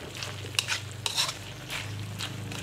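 Soup stirred in a pot after spring onions go in, heard as soft, close scraping and clinks of a spoon at a gentle, uneven pace over a low background hum, with no talking.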